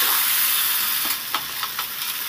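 Fried potatoes being stirred in hot oil and spice masala, a steady close sizzle with a few scraping stir strokes toward the end, no talking.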